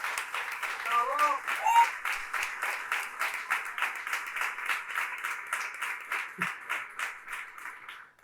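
A crowd at a community organizing group's gathering claps for fellow members in a steady, rhythmic applause that lasts throughout, fairly close and loud, with a brief voice near the start.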